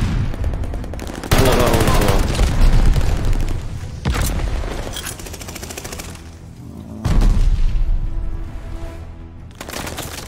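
Bursts of automatic gunfire in Call of Duty Vanguard, weapons firing through a wall during a bomb objective match, loud rattling volleys in three clusters with booming low end and game noise between.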